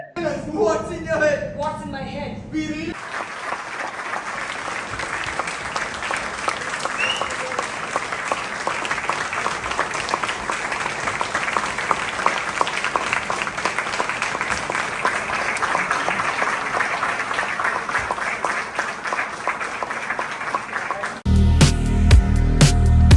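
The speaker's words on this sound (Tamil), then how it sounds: "பார்வையாளர்கள் கைத்தட்டி மகிழ்ச்சியை வெளிப்படுத்தி உற்சாகம் அடைந்தனர்" An audience applauds at length after a performance at a college's annual cultural and sports festival in Puducherry, a dense, steady clapping that fills the space, with speech heard at the start and end.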